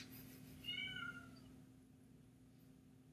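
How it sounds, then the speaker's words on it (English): A black cat lets out a single clear meow in a quiet room, fairly faint and drawn out, followed by low steady background hum and silence. "So the baby goes to sleep, and then the cat decides to start meowing"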